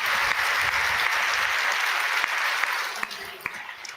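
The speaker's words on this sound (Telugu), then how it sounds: "ఫోటో చప్పట్లు కొట్టి దేవుని మహిమపరచు." A church congregation claps together to glorify God, a dense burst of applause that thins out into a few scattered claps toward the end, with some voices mixed in.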